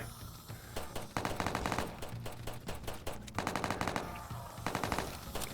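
Rapid automatic gunfire from the zombie survival game Roblox All of Us Are Dead, loud and close, in dense repeated bursts with brief gaps between volleys.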